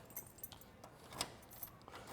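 A small bunch of about three keys jingles softly and close by at the trunk lock of a 1968 Chevrolet Camaro, with light metallic clinks and one brighter rattle midway through.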